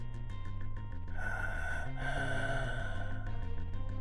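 Heavy, ragged gasping breaths repeat close up over about four seconds, sharp inhales and snorting exhales dominating with no talk.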